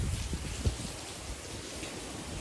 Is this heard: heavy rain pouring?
yes